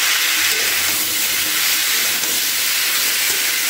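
Green peas hit a hot pan of frying pumpkin and potato and sizzle loudly in a steady, broad hiss that lasts throughout, with no voices.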